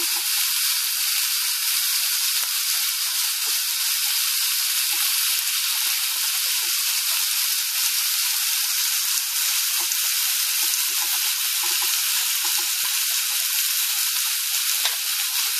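Constant loud sizzling and crackling of thick meat searing on a hot grill pan, with a continuous hiss and scattered small pops throughout.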